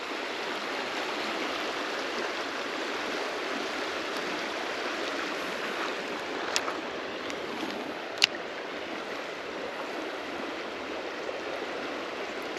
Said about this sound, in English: It's some fast moving water here too.